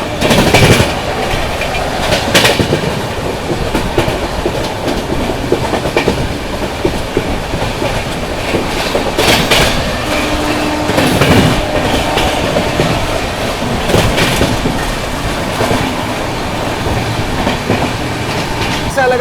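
The 12430 New Delhi–Lucknow AC Superfast Express runs through Balamau Junction without stopping, with steady loud rumbling and rhythmic clickety-clack of wheels over rail joints, occasional bursts of louder rattling, heard from close by for the whole stretch.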